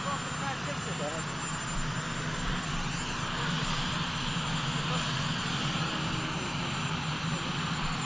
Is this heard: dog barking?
no